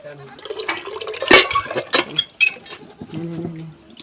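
Water is poured and splashes in short, uneven bursts for a pet shalik bird to bathe in, close by, mixed with a person talking and a few brief bird-like calls.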